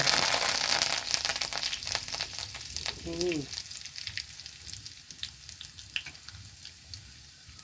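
Garlic pieces and curry leaves drop into hot oil with a loud burst of close sizzling that gradually settles to a lighter, crackling fry, with brief stirring noises.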